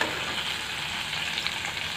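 Onions and tomatoes frying in oil in a pan, a continuous even sizzle with a faint crackle, close and steady throughout.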